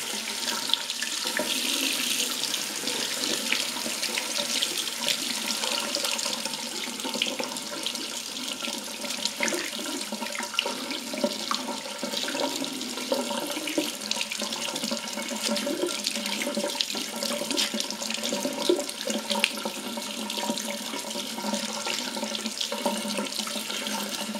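Hot water runs steadily from a tap into a bathroom washbasin, a continuous close splashing hiss that holds without a break for the whole stretch, with no talking over it.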